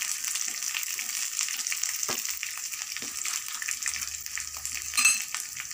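Ginger, green chillies, coriander and curry leaves fry in a pan with a steady, bright sizzle, broken by a few soft spoon taps and a brief louder crackle near the end, with no talking.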